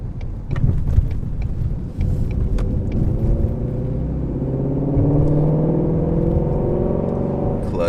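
A Mustang GT350 engine rumbles and revs after a manual downshift, a deep close growl that rises and holds steady, with light mechanical clicks early on.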